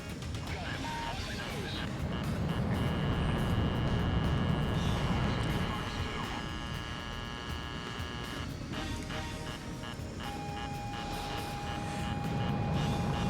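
The jet engine of a Mitsubishi fighter plane closely based on the F-16 roars steadily in an Ace Combat 04 flight game, a continuous loud whine with tonal game sounds layered on top, while someone talks over it.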